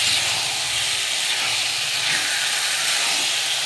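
Fried potatoes and chicken pieces sautéing together in a pan give a loud, steady sizzling hiss that runs unbroken throughout, with no one talking.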